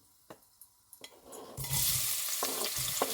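Sweet potato leaf ingredients dropped into hot oil, faint crackles at first, then a sudden loud burst of sizzling that stays strong, with a few thumps underneath.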